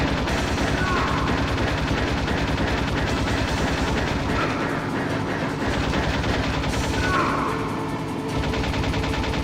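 Rapid automatic gunfire in the Metal Gear Solid video game, a loud, dense stream of shots with steady rhythm that continues through the whole stretch.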